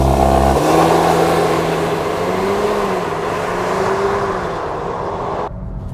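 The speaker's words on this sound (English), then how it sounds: "it launches quite nicely. There's a decent amount of wheel spin." A Mk8 VW Golf R launches hard under launch control on a straight road, its engine roaring loud and steady with rising pitch as the wheels spin, then cutting off abruptly near the end.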